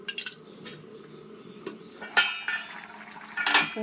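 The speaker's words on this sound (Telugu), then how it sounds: "1 స్పూన్ కాంప్లాన్ కలుపుకోవాలండి నీళ్ళల్లో" A spoon clinks against a metal vessel while stirring Complan powder into water during Andhra-style chilli chicken cooking, with scattered sharp taps and scrapes of metal on metal, sparse and fairly close.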